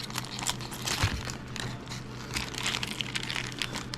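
Plastic packaging of a phone mount, a Rennline mount for a 2013 Audi A4, being cut open with scissors: close crinkling and crunching plastic with irregular snips and rustles throughout, no talking.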